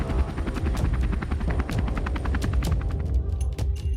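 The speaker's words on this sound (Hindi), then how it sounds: "इसलिए इसे दुनिया का सबसे हल्का अटैक हेलीकॉप्टर माना जा रहा है।" A light attack helicopter thunders close by with loud, steady, fast rotor chopping and a rough engine drone throughout, with no voices.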